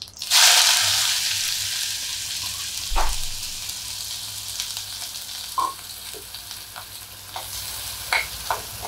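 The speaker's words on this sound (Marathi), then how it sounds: "हा जो बारीक चिरलेला कांदा आहे तो मी आता घालते" Finely chopped onion hits hot oil already holding cumin and asafoetida and sizzles loudly and steadily, close up, with a few clinks of a stirring spoon against the pan.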